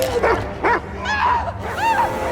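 A dog yipping and barking in short sharp bursts, about four close, loud calls with whining pitch bends in between, on a tense scene.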